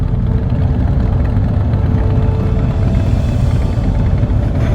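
A Chevrolet Camaro engine at a welcome-home parade for military heroes in Los Alamos, California, gives a steady, close, deep rumble with no talking over it.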